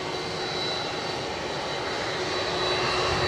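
Brussels Airlines airliner on final approach into Edinburgh Airport, a steady, loud broadband engine roar holding evenly throughout with a faint high whine on top.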